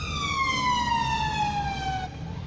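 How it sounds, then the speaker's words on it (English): An ambulance siren wails loudly and close, its long falling tone sweeping past and dropping in pitch as the vehicle moves away. "So that's an ambulance that actually works."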